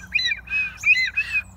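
Four quick bright chirping whistles in a row, close and clear over a low steady hum, from a handheld wooden bird call.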